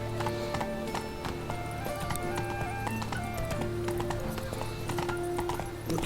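Roach the horse gallops in The Witcher 3, quick rhythmic clip-clop hoofbeats close and steady under game music and brief voices.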